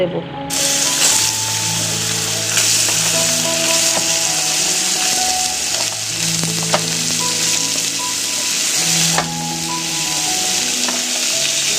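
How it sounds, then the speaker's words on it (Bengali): Panch phoron and dried red chillies frying in hot oil in a home kitchen pan, a steady close crackling sizzle with spatula scrapes, running continuously throughout with no talk. "তো ফোড়নটা একটু ভালো করে ভাজা হয়ে যাক"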